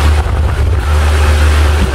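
A steady, strong whooshing hum of an Asahi electric fan running at full speed, with a low motor drone, continuous and close.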